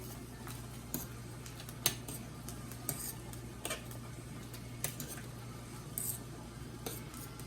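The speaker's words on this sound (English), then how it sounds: "I'll stir up these noodles." Spaghetti noodles are stirred in a pot, with sparse light clinks and taps of a utensil against the metal over a steady low hum, quiet and unhurried, with no talking.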